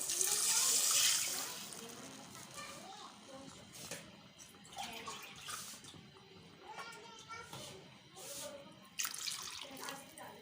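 Two glasses of water run and splash steadily into a cooking pot of chana dal with bottle gourd, loudest at the start, with faint voices and kitchen clatter in the background.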